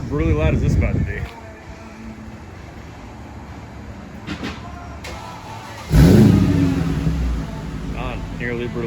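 Mercedes E55 AMG engine with exhaust cutouts open, revving in short bursts with a louder surge near the end, mixed with wind noise and some talking.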